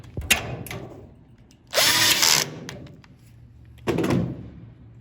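A power drill drives number 10 sheet metal screws, 3/4 inch long, in two loud whirring bursts of about half a second each. Short taps and clatter from handling fill the gaps between them.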